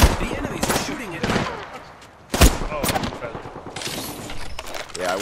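Video game gunfire rattles in loud bursts during online multiplayer play, with a sharp close shot in the middle and players talking over the shooting throughout.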